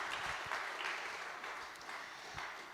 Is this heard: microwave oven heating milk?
no